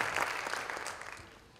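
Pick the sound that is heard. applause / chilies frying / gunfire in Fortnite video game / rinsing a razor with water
applause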